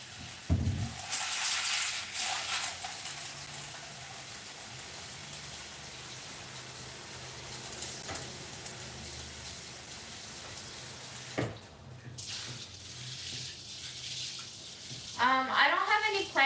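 Tap water runs steadily into a bowl of beans being rinsed, a continuous hissing gush with splashy onset and a few clinks and clatters toward the end.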